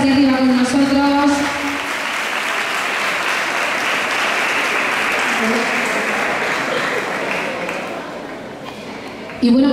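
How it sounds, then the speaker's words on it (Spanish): A pageant crowd at a town fiesta keeps up loud, dense applause for the officials on stage, a sustained wash of clapping with a voice speaking over the opening seconds and returning at the end. "Fuertes aplausos"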